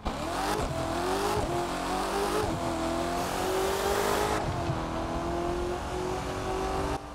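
A C8 Corvette engine in the racing video game The Crew 2 revs hard, rising repeatedly through the gears with a loud, meaty roar and brief dips between pulls, close and continuous.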